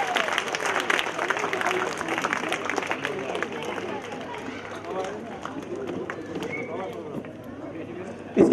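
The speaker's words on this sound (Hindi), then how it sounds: "जोरदार तालियां बजानी चाहिए" An audience at a school award ceremony claps in sustained applause while a voice speaks over it through a microphone and the crowd murmurs.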